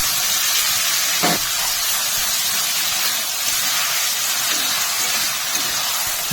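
Mashed eggplant dropped into hot oil and spices sizzles in a loud, continuous frying hiss close by, with a brief scrape near the start and no voices.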